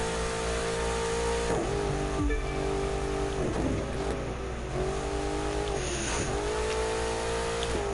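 Car in the video game The Crew 2 racing near Vegas and Dead Valley, engine revving hard through repeated gear shifts with rising and falling pitch, a steady loud drone with brief tire squeal, no talk.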